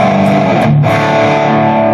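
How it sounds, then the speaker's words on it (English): Electric guitar pushed through a pedal at full distortion, a dense saturated sustained tone ringing steadily with a brief dip in the middle, loud and close with no talking. "if I just step in full, I have full distortion"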